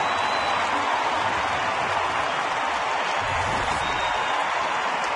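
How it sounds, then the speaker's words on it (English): A large baseball crowd at Target Field cheers and applauds steadily after a home run, a dense distant roar with no clear breaks and no nearby talk. "Well, that gets a crowd on its feet right here."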